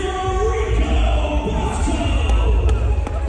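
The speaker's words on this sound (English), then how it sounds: "let me hear this roar for Rico" Crowd roaring and cheering for someone named Rico, a dense, loud, sustained wall of voices and cheers with a busy mixed murmur throughout.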